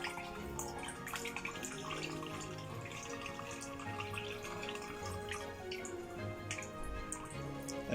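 Water runs and splashes in a kitchen sink while blanched spinach is rinsed in ice water for palak paneer, a steady close stream with scattered drips and clinks throughout.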